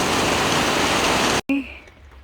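Heavy rain pours steadily onto potted garden plants such as dendrobium, oncidium and begonia as a dense, loud hiss that cuts off abruptly near the end, leaving a quieter background.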